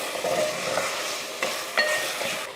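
Potato pieces sauté in a pan with mutton for a Sunday mutton curry, a soft continuous sizzle with a few sharp scrapes and clinks of a spatula, close and fairly quiet, no talking.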